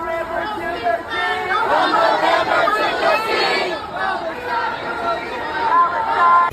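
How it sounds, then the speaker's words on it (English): A large crowd of peace protesters marching outside Joe Biden's Delaware home, a dense babble of many voices chattering and calling out together at steady loudness, close by and continuous. "Very, very big crowd of protesters marching to his house"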